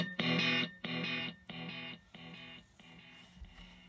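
A Monte Cristo brown leather cigar box guitar played through a Vox Mini amp with delay plays one distorted chord that repeats in five evenly spaced echoes, each quieter than the last.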